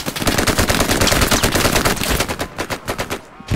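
Machine gun fire from the bushes in the Hell Let Loose video game: rapid, loud, close bursts of shots in a near-continuous stream, breaking into separate cracks near the end, with no talking.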